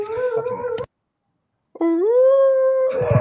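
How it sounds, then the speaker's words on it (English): A husky howls twice, close and loud: a short wavering howl, a pause of silence, then a longer rising, sustained howl that breaks off into rougher vocal noise. "She has the worst howl in the world."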